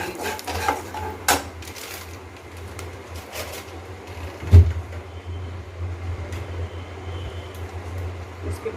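Vegetables fried and stirred in a pan for a Navratri fasting dish, with metal clinks and scrapes of a spoon against the pan over a low background hum, including one sharp knock partway through.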